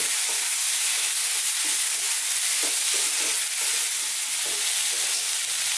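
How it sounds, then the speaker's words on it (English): Beef and broccoli with oyster sauce stir-frying in a pan on high heat, a loud, dense hissing sizzle with soft repeated tossing and scraping thumps underneath, close and continuous. "on this high heat, we're going to throw this around in the pan for about 90 seconds"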